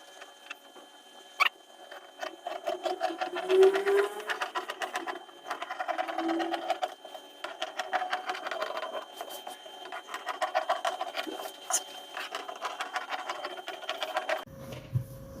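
Scissors snip through fabric while a flounce is cut out, producing a close, fairly quiet run of rapid crisp cuts and light rustling of cloth that continues steadily without speech.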